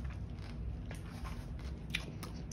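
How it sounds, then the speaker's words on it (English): A crunchy peppermint candy shell from an MRE ration is bitten and chewed close to the mic, giving a few crisp cracking crunches over a steady background hiss. "Nice crunch. Good peppermint shell."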